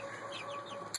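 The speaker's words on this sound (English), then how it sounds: "chickens are all growing, starting to get their feathers" Young meat chickens in a brooding flock cluck and peep softly and continuously, with a brief brighter chirp near the end and no talking.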